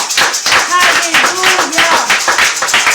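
A church congregation claps in a quick, steady rhythm while voices cry out in praise, the hand claps crisp and close, running throughout the short stretch.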